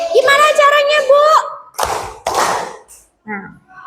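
A voice speaks or chants in a classroom clapping game, followed by two sharp, loud hand claps close together and a brief murmur of children's voices.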